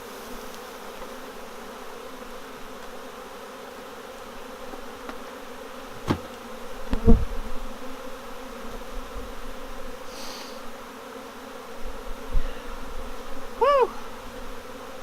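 Honey bees from a caught swarm buzz steadily around a hive, a continuous low drone with bumps and knocks, while a person calls out briefly near the end.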